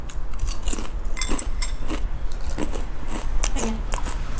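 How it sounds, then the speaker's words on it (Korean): Loud, close crunching bites and chewing of crispy fried chicken skin, repeated irregularly for several seconds. "바삭한, 바삭한 소리가 들리시죠?"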